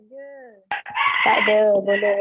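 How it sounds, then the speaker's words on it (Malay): A rooster crows in the background during an online class, one loud drawn-out crow that follows a brief clucking call, with a voice speaking briefly near the start. "Ada bunyi ayam kat belakang."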